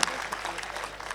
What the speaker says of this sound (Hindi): आप जरा सा तालियां बजा दीजिए सारे लोग मिलकर